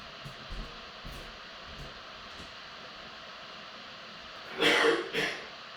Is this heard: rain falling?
no